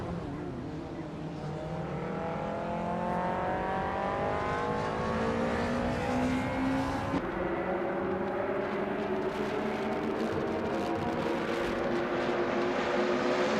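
Cars in a racing video game roar past and overtake, engine notes climbing steadily in pitch as they accelerate, loud and continuous with a layered whine from several vehicles and no speech.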